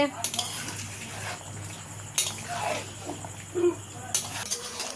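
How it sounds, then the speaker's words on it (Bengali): Pieces of duck meat are stirred and fried with a spice paste in a pan, with a low sizzle under repeated scraping and clinking of a utensil against the pan. "তো দেখো আর একটু নেড়ে চেড়ে ভেজে নেবে দেখো মশলা কষানো হয়ে গেছে"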